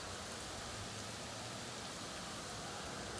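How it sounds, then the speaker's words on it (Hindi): Heavy rain falling in a dense, steady, unbroken hiss, soft and continuous with no pauses or voices. "लेकिन बहुत ज़्यादा बारिश हो रही है।"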